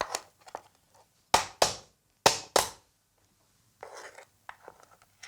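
A mud crab claw being cracked with four sharp, loud cracks in two quick pairs, then softer scraping and handling of the shell, with no speech.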